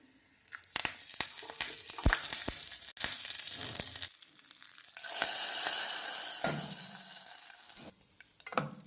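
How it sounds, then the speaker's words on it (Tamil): Mustard seeds, urad dal, cumin and dried chillies splutter in two spoons of hot oil for a dal tempering, a loud close crackle with spoon clinks, scraping and brief pauses between bursts. "நாம் பருப்பு தாளிப்பதற்கு இரண்டு ஸ்பூன் எண்ணெய் ஊற்றிக்கொள்ள வேண்டும் கடுகு உளுந்து ஜீரகம் போட வேண்டும்"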